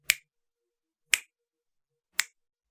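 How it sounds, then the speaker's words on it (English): Three crisp finger snaps ring out about a second apart, each sharp and isolated against silence. "I just snap my fingers. And I snap my fingers again"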